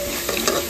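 Turmeric powder being stirred into onions frying in a pan, a steady close sizzle with soft scraping from the spoon, continuous and fairly loud.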